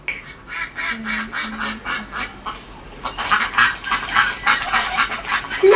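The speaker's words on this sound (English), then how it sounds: "Look at the ducks on the water." Ducks on the water quack in a quick rhythmic series that grows into busier, overlapping calls, fairly close and getting louder toward the end.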